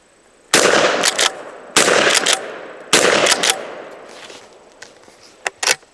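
A cheap Tristar .410 shotgun fires three rounds in quick succession outdoors, each blast loud and sharp with a short echoing tail, followed by fainter clicks and clatter of the action.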